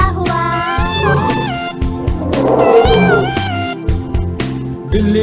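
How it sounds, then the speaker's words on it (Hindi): A cat meows repeatedly within a Hindi children's rhyme about a cat, several drawn-out, pitch-bending meows in a loose rhythm, loud and close over a musical backing. "बिल्ली मौसी,"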